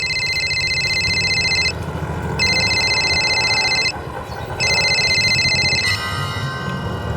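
A phone rings with an incoming call, three bursts of a bright electronic trill separated by short pauses, heard clearly over a low background rumble.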